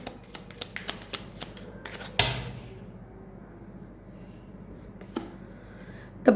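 Tarot cards are handled and shuffled in a series of short, crisp riffles and flicks, close and fairly quiet, with one louder cascading shuffle and scattered taps in a hushed room.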